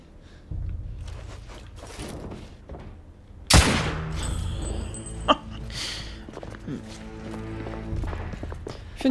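Horse hooves clip-clopping in the video game The Order 1886, a steady clatter of steps under in-game sounds, with a sharp thud partway through and someone talking over it.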